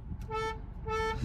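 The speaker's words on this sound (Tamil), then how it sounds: "சேம் அந்த வென்யூவோட ஹாரனை ரிசம்பிள் பண்ணுற மாதிரியே இருக்குது" Hyundai Exter car horn sounding in two short honks, each with a steady harmonic tone, loud and close against a low rumble of background noise.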